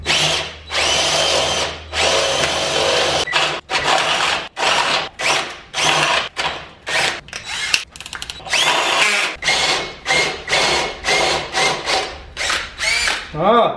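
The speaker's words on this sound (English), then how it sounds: "we gotta drill a hole right about here" An electric power drill boring a hole during work on a clutch and hydraulic throwout setup in an LS-swapped S10 Blazer, running in close, loud bursts that rev up and cut off repeatedly, with a voice briefly heard between runs.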